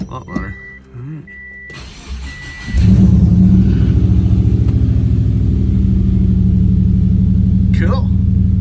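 A turbocharged Subaru Forester engine starts up, then settles into a loud, steady idle rumble that holds for several seconds, with a brief voice near the end.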